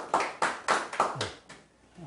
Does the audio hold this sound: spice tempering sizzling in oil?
no